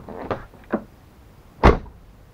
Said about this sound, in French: C'est toujours plus agréable d'avoir un bruit feutré à la fermeture de la porte.